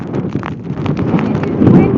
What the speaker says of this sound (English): Windy, windy, windy. I'm going to get blown away.